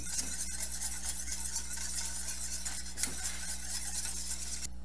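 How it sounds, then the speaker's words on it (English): Milk and cornstarch whisked constantly in a pot on a medium stove, a steady rhythmic scraping swish against the metal over a low hum, close and soft, with no talking. "We want to constantly whisk this so we don't have it burn or scorching to the bottom."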